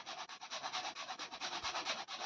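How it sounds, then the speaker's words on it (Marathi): Nutmeg is rasped against a grater in rapid, even strokes, a dry scratchy rubbing repeated many times in close succession, near and quiet, with no voices. "जायफळ किसून टाकायची थोडीशी"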